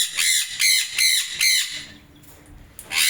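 A sun conure parrot in a cage lets out four harsh, shrill squawks in quick succession, loud and close, followed by a brief lull and the start of another squawk.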